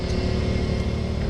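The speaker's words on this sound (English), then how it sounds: "So right now I'm running everything off a generator," A small portable generator engine drones steadily and close by, a constant rumbling motor hum with no pauses.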